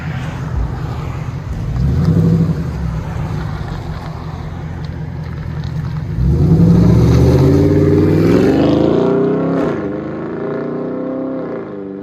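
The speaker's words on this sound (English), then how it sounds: "'21 Dodge Charger Scat Pack wide body" A 2021 Dodge Charger Scat Pack widebody engine idles with a deep rumble, then revs up into a louder, rising growl before settling back, heard close with no talk.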